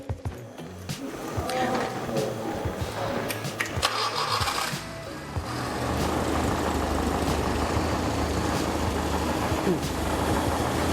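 An engine turns over and settles into a steady, loud idle hum, with a voice and handling noises beforehand.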